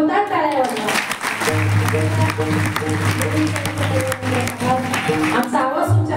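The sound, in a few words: audience applause at a kirtan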